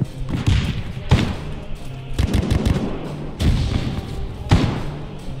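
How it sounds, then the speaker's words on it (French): A grenade going off in a video game, one of several heavy booming thuds spaced about a second apart, loud and close, with faint background game noise between them. "1, 2, 3, grenade."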